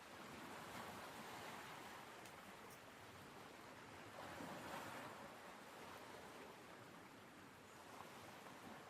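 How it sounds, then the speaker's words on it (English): Steady ocean waves wash and roll continuously with a windy, surf-like hiss, broad and moderately loud, swelling slightly at moments with no voices present. "the sound of the waves comes back."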